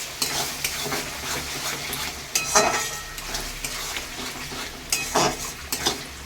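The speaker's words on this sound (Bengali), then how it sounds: "এদিকে আমার মশলাটা কষানো হয়ে এসেছে" Masala spice paste for a mutton curry fries and sizzles in a pan, with steady frying hiss broken by repeated scraping stirs of a spoon against the metal, close and fairly loud, no voices.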